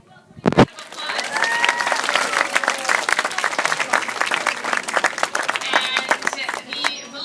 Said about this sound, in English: Let's give them a big welcoming round of applause.